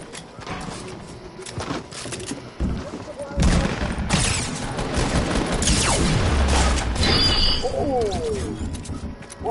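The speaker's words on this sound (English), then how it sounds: "What was he shooting so many times, bro?" Rapid gunfire in the tactical shooter Squad crackles in dense, overlapping bursts amid a chaotic, cluttered mix of impacts and mechanical noise, moderately loud with some distant shots.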